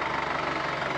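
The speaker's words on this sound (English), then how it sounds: "it is a little warm with that engine fan" Tractor engine idling with its engine fan running, a steady, close, throbbing drone with a constant whirring rush over the top.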